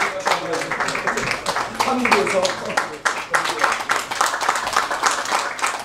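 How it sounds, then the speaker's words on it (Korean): An audience claps at a theological seminary graduation and degree ceremony in New York, producing sustained, brisk applause throughout with a brief dip midway, while voices and a few spoken words carry underneath. "우리 한번 큰 박수 한번 부탁드립니다."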